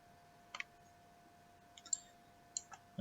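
Computer mouse clicks at a desk, a few sharp, quiet clicks spaced apart, some in quick pairs, against near silence with no talking.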